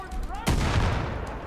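A scoped shotgun in Far Cry 5 fires once partway through, a sudden loud blast with a boomy low-end tail that sustains through the rest, with some faint game sound before it.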